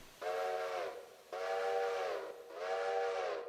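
A steam locomotive whistle in the video game Railroader sounds three times in long, loud, harmonic blasts separated by short gaps, with no talking.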